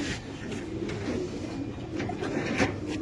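Racer pigeons cooing at a pigeon farm in Mirpur, soft low coos blended into a busy, steady background murmur.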